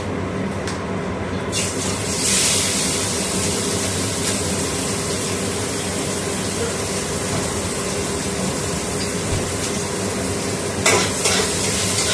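Onions sizzling in tempering oil for fish curry, with a continuous loud frying hiss, repeated stirring scrapes and a few clinks of utensil against the pan, close by and without talk.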